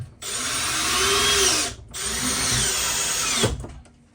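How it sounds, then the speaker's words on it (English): Two bursts of a power drill driving gold screws at close range while installing an RV bed lift kit, each running about a second and a half, the second ending with a clunk. "take these gold screws that they gave you and just screw a couple of them in there"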